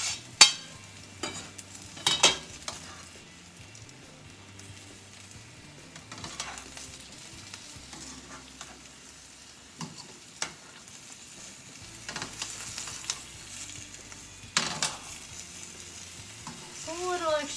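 Vegetables for a beef stir fry sizzle softly in a pan while a utensil stirs them, with several scrapes and knocks against the metal over a quiet frying background.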